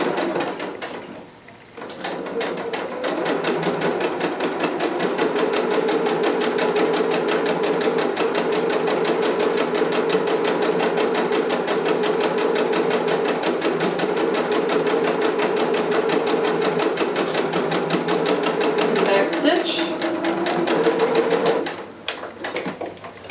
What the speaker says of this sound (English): So now I'm just going to stitch these together using 5/8 seam.